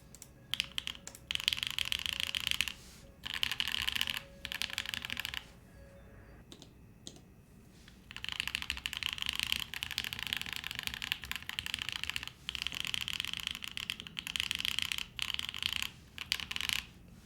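Repeated bursts of clacky typing on an Ayleen TKL mechanical keyboard's number row, close and crisp, separated by short pauses with no talk.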